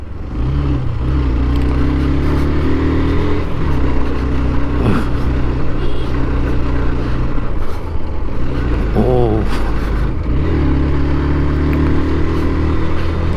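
Motorcycle on the ride to Boga Lake, with a steady loud engine drone and low rumbling harmonics throughout, under wind and a few brief voice bursts.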